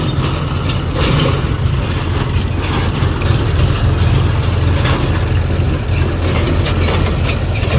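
A tractor engine rumbles steadily in a harvest field, with continuous mechanical clatter and rattling throughout and no voices.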